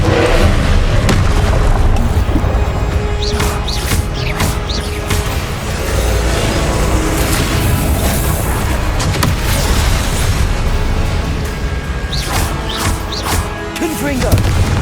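Repeated Confringo blasting curse explosions from Hogwarts Legacy go off one after another over a continuous loud roar of combat, heavy booms and crashes recurring throughout, with voices calling out between them.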